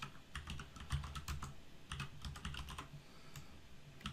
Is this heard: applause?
no